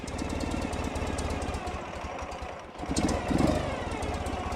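An old carbureted motorcycle engine with a choke warms up at idle, a close, steady, loud low-pitched chugging throughout, with a brief swell in revs near the end and no talk.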